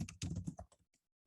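Fingers type on a computer keyboard in a quick, close burst of several sharp clicks that fade into quiet within about a second.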